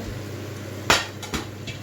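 A spoon knocks against a cooking pan while fried chicken masala is mixed over a low flame. Two or three sharp metallic clanks sound over a steady background hiss, with no voices.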